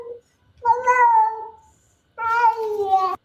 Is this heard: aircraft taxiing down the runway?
no